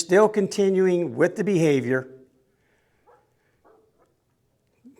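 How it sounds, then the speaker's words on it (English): A reactive dog on a leash barks and yips in a quick, strained burst of harmonic, voice-like calls, then falls quiet apart from a few faint small noises. "Barking there"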